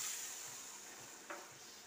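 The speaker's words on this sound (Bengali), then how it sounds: "ঝোলটা ফুটছে," A Bengali rui fish curry broth cooking in a pan gives a low, continuous bubbling hiss with one brief louder splash or stir near the end.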